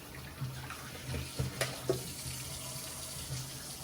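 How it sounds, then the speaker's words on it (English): Water runs from a tap into a sink while potatoes are washed, with soft splashes and a few knocks and thuds of potatoes being handled under the stream. "We wash them 3 times in water"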